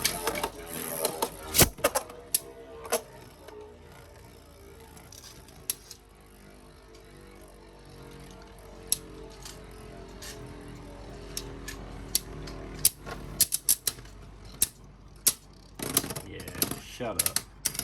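Beyblade tops launched into a stadium and spinning, heard as a steady whirring hum with scattered sharp clicks and clacks of collisions, louder bursts near the start and end, with faint voices at times.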